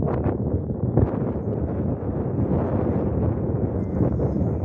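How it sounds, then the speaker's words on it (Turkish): Strong wind gusting steadily across an open hillside near high-voltage power lines, a loud continuous roar buffeting the microphone with a few sharper gusts and no voices. "rüzgar da iyice şiddetini artırıyor"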